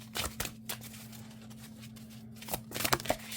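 A deck of oracle cards is shuffled by hand in a quiet room, with short papery riffling bursts near the start and a busier flurry of card flicks toward the end, over a low steady hum.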